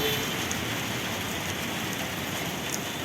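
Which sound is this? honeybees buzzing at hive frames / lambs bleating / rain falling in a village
rain falling in a village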